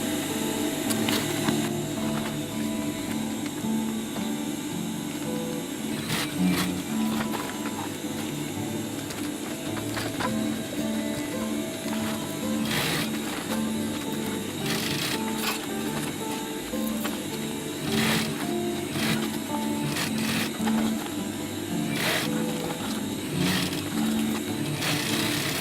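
A sewing machine stitches a DIY rollup pouch, its fast mechanical needle rhythm running continuously and fairly loud throughout, with small pauses and shifts in pace.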